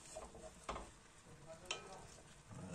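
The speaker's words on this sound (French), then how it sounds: "Et là, alors, on y met notre ail." Garlic dropped into a hot pan for a beef cheek dish, giving a faint, steady sizzle with a couple of soft stirring clicks, quiet and close.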